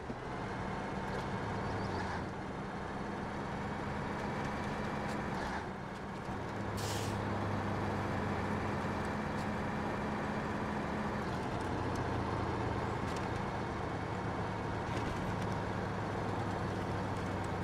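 A heavy truck in the game Snowrunner grinds along steadily with a deep engine drone, a couple of brief higher hisses breaking through, no talking.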